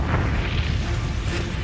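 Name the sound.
huge explosion of a ship, documentary sound effect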